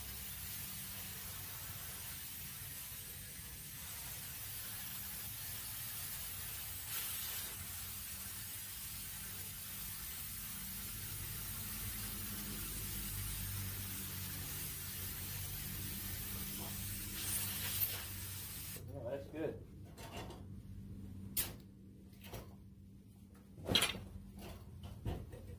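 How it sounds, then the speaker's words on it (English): A long, steady pressurized hiss of a spray gun spraying lacquer thinner runs for about eighteen seconds, then stops, leaving scattered clunks and handling noises. "I'm just going to spray all that lacquer thinner out."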